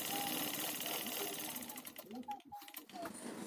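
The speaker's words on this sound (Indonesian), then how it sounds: "Oke, jadi sekarang kita jahit tangannya." A sewing machine stitching a crop-top runs in a steady, continuous whir, pausing briefly near the end, while someone talks over it.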